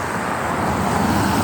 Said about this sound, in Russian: О, машины идут.